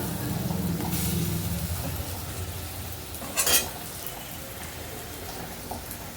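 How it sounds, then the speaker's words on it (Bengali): Lentil fritters (bora) frying in oil in a pan and being turned over, a continuous crackling sizzle with a brief louder scrape of the spatula midway, close and without talk. "দেখো, বড়াগুলো উল্টে নিচ্ছি।"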